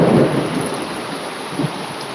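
Heavy rain pours steadily during a storm as a low thunder rumble rolls at the start, with another faint rumble near the end; no voices.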